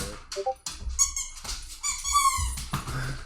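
A dog named Kennedy squeaks in a run of high, whiny, pitched cries, several short yelps and longer wavering whines close by, with soft thumps between them.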